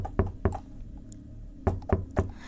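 Someone imitates knocking on a door with dull, close knocks: a pair of raps, then a pause, then a group of three evenly spaced knocks.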